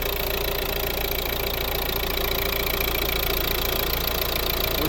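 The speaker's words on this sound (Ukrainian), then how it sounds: "Це робота двигуна." The 1.6-litre diesel engine of a 2013 Volvo V40 idles close by, a steady, even clatter and rumble that holds constant with no voices over it.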